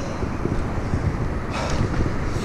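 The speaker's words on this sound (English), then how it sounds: "the wind, it was really windy" Steady, heavy wind buffets the microphone throughout while riding a Lime bike, a continuous low roar and rumble with no speech.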